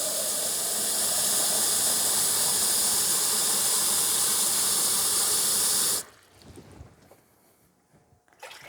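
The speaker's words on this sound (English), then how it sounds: "I'm going to add water to this pot" A loud, steady rushing hiss of water poured into a hot bean pot for about six seconds, then cutting off to quieter sizzling and clatter.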